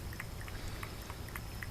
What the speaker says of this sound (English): You see how he laps up that water?